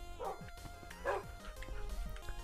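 Several short dog barks and yips from a Minecraft dog come in bursts across the stretch, one louder bark cluster in the middle, over steady background game noise and music.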